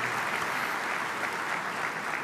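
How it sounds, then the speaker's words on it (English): Continuous applause from a luncheon keynote audience, an even, moderately quiet wash of many hands clapping with no pauses. "if we could have a round of applause for all of them and their generosity"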